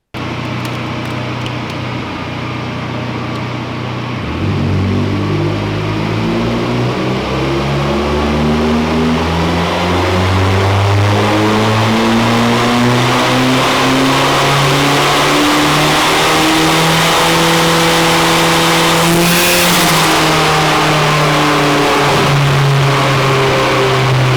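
A tuned Mazda MX5 on a dyno during a power run: the engine idles, then climbs in one long, loud, sustained rev through the gears to high rpm and holds near the top before easing slightly.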